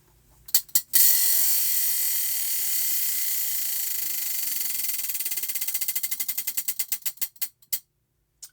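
A spinning prize wheel for picking crochet stitches gives a fast, steady ratcheting clatter that gradually slows into distinct clicks, spacing out until the last few ticks stop, all close and alone.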